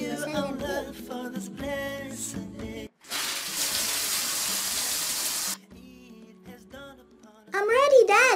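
Cartoon shower water gushes as a steady, full hiss for a couple of seconds, set between stretches of animated character voices talking before and after.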